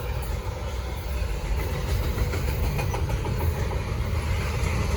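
A short Norfolk Southern freight train rumbles past at Gaffney, South Carolina, as a steady, loud, broadband roar of wheels and rail noise that grows slightly stronger partway through.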